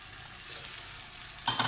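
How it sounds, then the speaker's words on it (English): Bacon and onion go back into a stew pot against a quiet, low background, and a sharp, close sizzle bursts out near the end. No voices are heard. "We're going to put the bacon and the onion back in."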